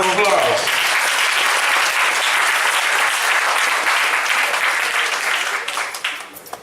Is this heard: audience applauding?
yes